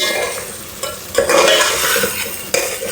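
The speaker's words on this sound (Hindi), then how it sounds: "ये जैसा थोड़ा और भुन जाएगा तो मैं इसमें अंडे शामिल करके शोरबा करूँगी" Masala for an egg and potato curry fries in a pan with a loud, close sizzle while a spoon stirs and scrapes through it in a few uneven strokes.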